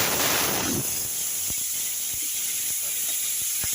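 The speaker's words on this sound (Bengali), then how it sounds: "দেখুন চিংড়ি মাছগুলো আমি এইভাবে ভাজা করছি।" Shrimp frying in hot oil with dried chili and cumin in a wok, a steady close sizzle and hiss with a louder burst at first and occasional small pops.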